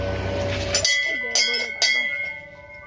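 A metal temple bell is struck several times in quick succession, each clang ringing out bright and lingering, with voices and background bustle nearby.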